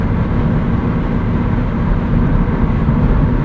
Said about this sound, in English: Slightly more noise on the highway.